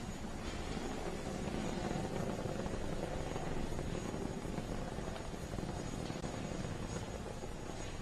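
Falcon 9 rocket's nine Merlin engines during a launch, a steady, dense broadband roar that stays loud and unbroken throughout, with a deep rumbling crackle and no voices.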